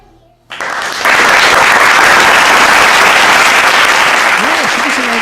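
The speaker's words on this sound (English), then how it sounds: "Clap your hands," After a brief near-silent moment, loud applause erupts from an audience greeting guest Kyanna Palmer, building quickly into a dense, continuous roar with a faint vocal whoop near the end.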